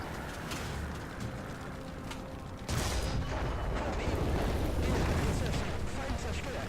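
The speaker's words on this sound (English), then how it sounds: "we will shoot into here anyways" A tank gun fires in War Thunder, a sudden loud blast that opens into a sustained roaring rumble and dense crackle, with a voice talking over the game sounds.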